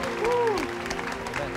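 A studio audience at a Taiwanese TV variety game show claps in a steady, moderate burst, with a brief gliding voice or whistle-like tone rising over the applause near the start.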